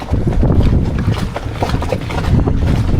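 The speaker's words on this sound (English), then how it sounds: "there is a very strong wind and current outside" Strong wind roars outside a boat moored at an abandoned NATO warship. Loud, continuous, rumbling gusts buffet the microphone with no break, and no voices are heard.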